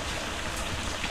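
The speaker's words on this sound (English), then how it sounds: "It's raining. Dude, that shit's loud as hell." Heavy rain in the video game Destiny 2, a dense, steady hiss of falling water that is loud and close and fills the whole moment.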